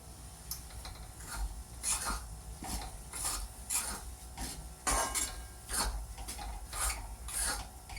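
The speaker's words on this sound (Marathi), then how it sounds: "सारखं हलवत राहायचं आहे, नाहीतर खाली पीठ लागू शकतं" Moong flour dry-roasted in a pan over medium heat and stirred continuously, giving a repeated scraping, rasping rhythm of spoon against pan, close and moderately quiet, with no talking.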